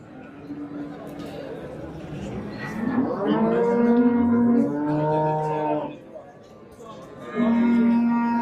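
A cow calling for its calf at a livestock market in Karshi bellows several long, loud moos nearby, one after another with a short pause, as faint chatter carries in the background.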